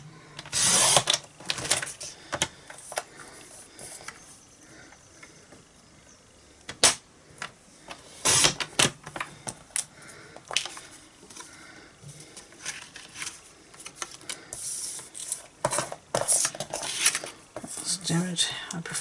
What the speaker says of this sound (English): I'll just use my trimmer to do this.